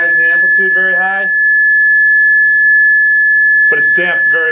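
A Chladni plate driven at resonance gives off a steady, piercing high tone that rings throughout, while people talk over it at the start and end.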